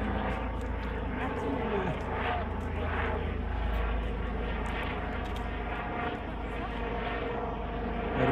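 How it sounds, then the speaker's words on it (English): A helicopter drones steadily overhead, its engine and rotor noise filling the background while people talk nearby. "Helicopter!"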